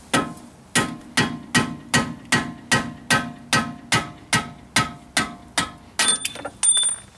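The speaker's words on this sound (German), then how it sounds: "Und dann mit einem etwas dünneren Schraubenzieher die Schraube nach hinten rausschlagen." A thinner screwdriver is hammered to drive a screw out backwards while a CV axle boot is replaced without removing the drive shaft: about a dozen sharp, close metallic strikes in a steady, even rhythm, ending in a brief clatter.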